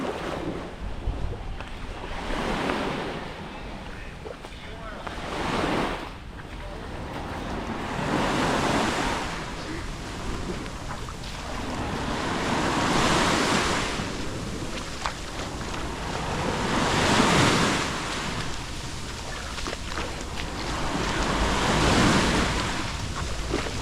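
Ocean waves at high tide on Bang Rak Beach, Koh Samui, wash ashore in broad swelling surges every few seconds, with steady wind noise over the microphone.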